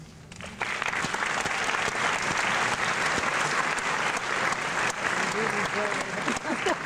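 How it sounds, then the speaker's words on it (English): Sustained applause from a seated audience of parents and family at a graduation-style ceremony, steady dense clapping filling the room after a brief quiet start, with some voices mixed in. "And I think they deserve an applause."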